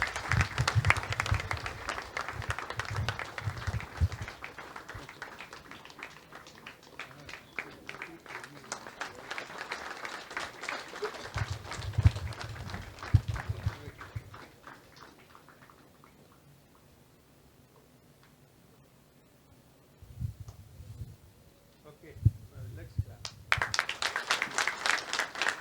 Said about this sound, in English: let's give a big round of applause to Mrs.